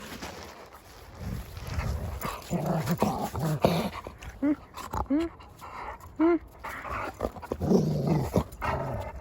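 Dogs pant and give short whines and growls close by, while a person talks over them.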